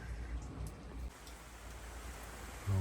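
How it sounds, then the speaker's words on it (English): Soft steady rain falls outdoors on an allotment plot in the morning, a faint even hiss of drops with a brief low thump near the end and no talking. "this rain's on one this morning"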